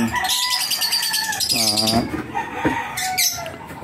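A hen makes loud calls and chirps with clucking tones and some wing flapping, close by and continuous, no speech.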